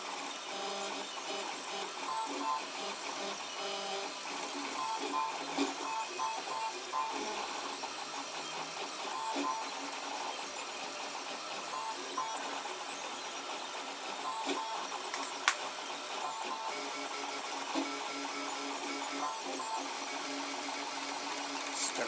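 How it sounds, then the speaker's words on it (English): 3D printer printing, with fans cooled through a buck converter in a shoebox, a continuous mechanical whir with squeaky stepper-motor tones and faint ticks, steady and moderately distant. "Still printing fine."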